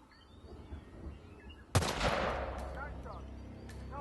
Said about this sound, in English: it's going to be a quick shot with the rifle